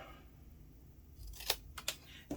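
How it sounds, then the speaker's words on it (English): Scissors snipping through card paper while making a pop-out gate fold card, a few sharp close cuts near the end after quiet room tone. "I'm just going to grab a pair of scissors and cut it"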